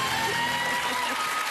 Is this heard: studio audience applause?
yes